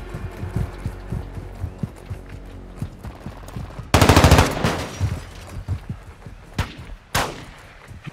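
Enemy gunfire in Call of Duty Modern Warfare 2: rapid automatic bursts crackle through a busy firefight, with a loud dense burst midway and sharp single reports near the end.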